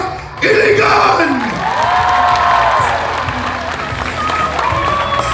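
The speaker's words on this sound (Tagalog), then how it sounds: "Isang malakas na palakpak, Iligan!" A large outdoor crowd at Manny Pacquiao's grand rally in Iligan City bursts into loud applause and cheering, with whoops and shouts rising suddenly and then sustained at a high level, a few whistle-like tones threading through.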